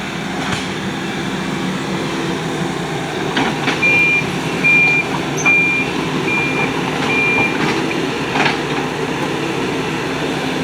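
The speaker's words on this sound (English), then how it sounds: "Now this is a smaller excavator than they had the last time." A small excavator with a front blade works on a rural road build, a continuous diesel rumble with intermittent metallic clanks and a faint, repeating reversing beep in the mid distance.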